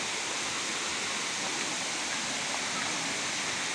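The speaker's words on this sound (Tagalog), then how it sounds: "Tapos ito na yung falls." Steady broadband rush of a waterfall at a scenic falls, a continuous dense roar filling the whole clip at moderate level with no pauses.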